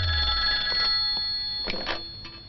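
A telephone rings in a dubbed Malayalam film scene, a steady electronic ring with sustained tones close by and no talking.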